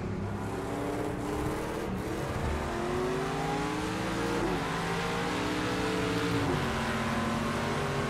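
A race car engine in Project CARS 2 at Silverstone drones steadily and loudly, its pitch climbing and dropping with repeated shifts as it accelerates through the gears, heard close and continuous.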